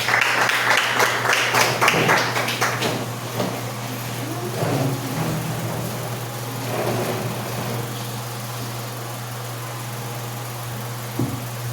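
A church congregation at an Easter communion service gives a short burst of hand clapping for about three seconds, then it fades away, leaving a low steady electrical hum and a quiet room.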